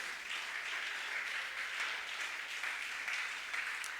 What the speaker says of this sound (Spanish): Demos un aplauso grande al dueño de esta iglesia